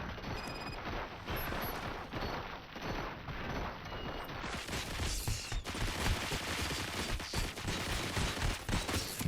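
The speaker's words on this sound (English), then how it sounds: "Fire at will." Sustained gunfire in the video game RoboCop: Rogue City, with dense, overlapping rapid shots filling the whole stretch, loud and continuous with no pauses.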